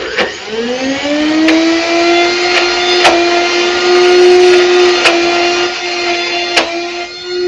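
A kitchen blender spins fruit and vegetables into a green blend, its loud motor whining steadily near the mic, rising as it starts and holding a constant pitch with small knocks throughout.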